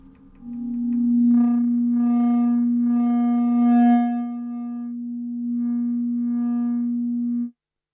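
A steady synthesizer oscillator tone drones for several seconds with shifting bright overtones, loud and continuous, then cuts off abruptly.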